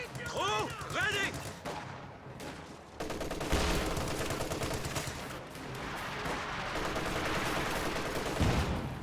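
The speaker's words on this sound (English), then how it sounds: "Nice hits from the infantry support gun though" Infantry support gun shelling in a real-time strategy war game, a run of heavy booming shots and gunfire bursts after a brief lull, loud and continuous with crackling impacts and chaotic battle noise layered over it.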